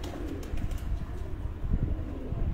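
Black-faced pigeons coo in soft, low, repeated throaty calls close by, set against a steady background hum with no talking.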